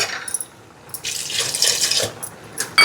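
A cup of water splashes into a curry pot sweetened with jaggery, a bright rushing pour that starts after a brief trickle and runs for over a second, followed by a few small drips and a final splash.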